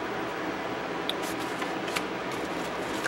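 Scissors snip through stamped paper shapes, close and steady, with faint repeated cuts and crisp paper rustle over a constant background hiss.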